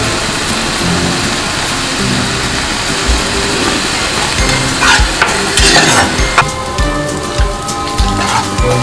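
Bombay duck (lote fish) simmers in a pan on a low gas flame as the water cooks off, giving a steady close sizzle and bubbling with occasional stirring and utensil scrapes, no talking.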